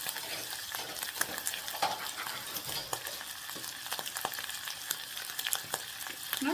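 Spice powder going into a sizzling frying pan while cooking pilau for lunch, a steady close frying hiss with light stirring clicks throughout, no voices.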